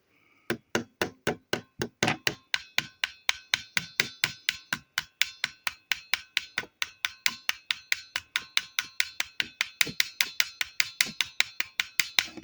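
A hammer strikes a part of an antique Hohner Marine Band diatonic harmonica in a long, steady run of sharp metallic taps, close up and loud, about four blows per second with no talking.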